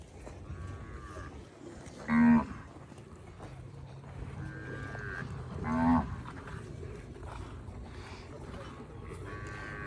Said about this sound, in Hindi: सिंगों वाली खूबसूरत गाय।